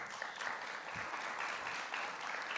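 Audience applause at an event about Sardinia, a continuous wash of many hands clapping at moderate volume for a couple of seconds.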